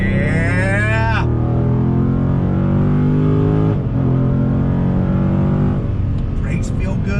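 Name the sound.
muscle car engine accelerating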